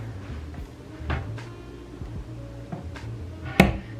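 Large dresser drawers in a Disney's Saratoga Springs one-bedroom villa sliding open and shut, several short wooden thumps and scrapes close by, with a sharper knock near the end.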